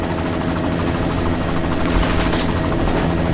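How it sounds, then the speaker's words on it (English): A helicopter in the video game Deus Ex: Mankind Divided thumps with a loud, continuous rotor chop, close and alone, with a brief bright clatter partway through. "You've got to stop that chopper."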